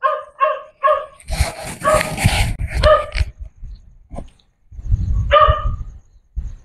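A dog barks several times in quick succession nearby, then people talk loudly over it, and another sharp bark breaks through later.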